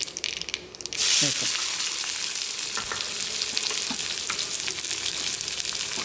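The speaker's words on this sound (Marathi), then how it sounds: "कांदा भाजून घेते" Onion dropped into hot oil with tempering in a pan, bursting into a loud, continuous close sizzle after a brief quieter start, with occasional stirring scrapes.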